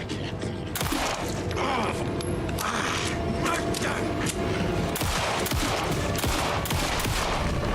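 Gunshots in Alan Wake 2: a few sharp, punchy shots spaced seconds apart over a dense, noisy backdrop, with a voice talking throughout.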